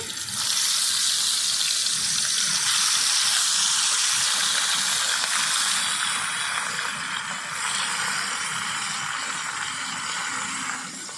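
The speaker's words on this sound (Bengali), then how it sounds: "তেল ভালো করে গরম হয়ে গেছে এবার আমি মাছ দিয়ে দেব ভাজার জন্য" Bhola fish, coated in turmeric, sizzles and hisses steadily in hot oil for the whole stretch, a dense, close frying crackle with no talk.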